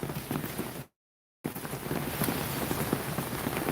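Raindrops patter steadily onto an umbrella outdoors, a dense close hiss of tiny impacts broken by a brief moment of total silence.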